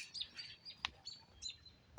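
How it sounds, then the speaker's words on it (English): Small birds chirping and tweeting outdoors, a few short scattered calls at moderate distance over quiet background hiss, with one sharper chirp standing out. "Birds are pretty violent right now. You hear them?"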